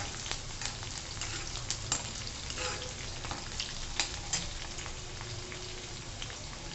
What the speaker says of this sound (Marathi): आता आपण चांगलं परतून घेऊ, चांगली मिरची फ्राय होऊ द्यायची।